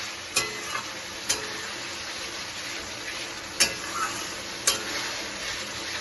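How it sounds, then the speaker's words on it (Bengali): Rajma, a kidney bean curry, stirred in a pot just after the lid comes off: a steady soft sizzle runs throughout, broken by a few sharp spoon knocks against the pot's rim. "আমি ঢাকনাটা তুলব, তুলে এই যে নাড়াচাড়া করবো।"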